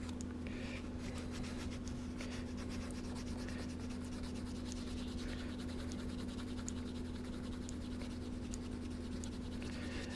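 Fine sandpaper rubs back and forth on a small plastic model exhaust part for a 1971 Hemi Cuda kit, a steady close scratching over a constant electrical hum.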